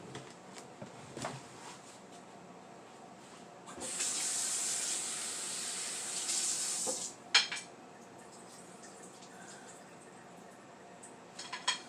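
Running tap water pours steadily into a kitchen sink for a few seconds while ingredients for a Filipino beef soup are rinsed, with light clinks and handling sounds before and after.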